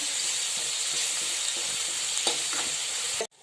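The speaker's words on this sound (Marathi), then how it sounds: "मी याला हिरव्या मसाल्याची फोडणी देते" Green chili and garlic paste sizzles loudly in hot oil as a tempering, a dense, even hiss with a few brief spikes of stirring, cutting off abruptly near the end.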